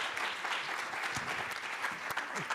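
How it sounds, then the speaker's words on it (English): An audience at a startup cohort demo day claps for a presenting team, giving steady, dense applause that fills the room evenly for a couple of seconds, with no speech over it. "Round of applause for Team Edit."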